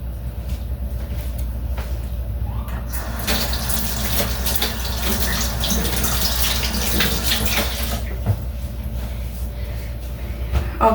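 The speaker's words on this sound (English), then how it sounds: "Let me wash my hands real quick" A tap runs into a sink while hands are washed, a loud hissing gush that swells in the middle for several seconds over a steady low hum, then falls back to the quieter background.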